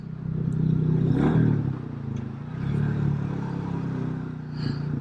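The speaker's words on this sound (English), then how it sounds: "Bike sounds good. Can y'all hear that?" A Royal Enfield Classic 350 motorcycle engine runs nearby, a low thumping idle that swells briefly as the throttle lifts, then settles back into a steady rumble.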